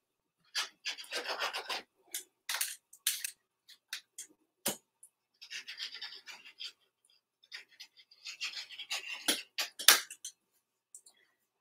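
A sharp blade slicing through the selvage edge of fabric along a half-inch guideline, heard as several bursts of close, crisp rasping cuts separated by short pauses.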